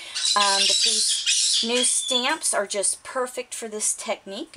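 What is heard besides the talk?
pet birds squawking in the background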